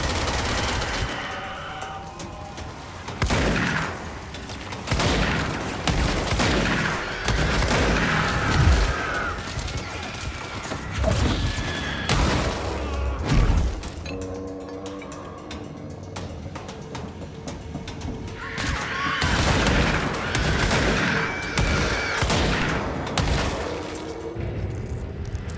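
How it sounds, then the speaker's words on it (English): Heavy gunfire from enemies shooting through walls in the Control video game, long rolling fusillades and booming impacts that swell and fade in waves, loud and dense with little pause. "Y'all stop shooting through the walls."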